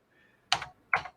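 Two quick bursts of computer keyboard typing, close and crisp, each a short cluster of key clicks separated by a brief pause, alone with no talk.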